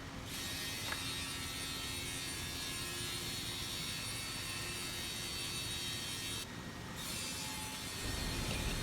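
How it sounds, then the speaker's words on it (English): A CNC machine cuts the four edges of MGO board in a factory production line, giving a steady, loud mechanical whir and grinding hum that continues throughout with a brief dip near the end. "we will use this CNC machine to cut in the four edges of MGO board according to customer's requirement size."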